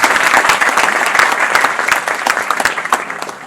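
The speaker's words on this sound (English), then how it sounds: "Can I see your clapping?" Students applaud together in a lecture hall at a guest lecture, a dense, steady wash of many hands clapping, loud and close, with no talk over it.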